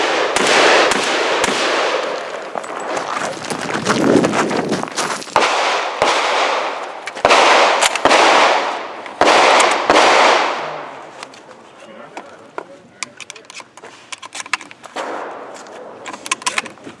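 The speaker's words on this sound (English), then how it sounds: "there was our good friend Long Pang, rocking his semi-auto Mossberg" A semi-auto Mossberg shotgun firing at a gun club range, a rapid series of loud sharp blasts in quick bursts, then fainter scattered shots further off.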